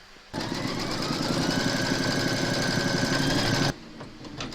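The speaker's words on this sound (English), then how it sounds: "Pop your hoop into your machine and stitch round number 2 to secure them all." An embroidery machine stitches a notebook cover held in the hoop, starting abruptly and running as a steady, loud mechanical whir and rapid needle patter for about three seconds before stopping, with no talk.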